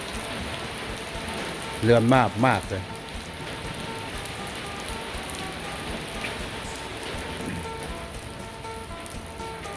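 Heavy morning rain pours steadily at a village house in Xe Bang Hieng, Savannakhet, Laos, a dense even wash of drops on surfaces, with a brief burst of nearby talk partway through.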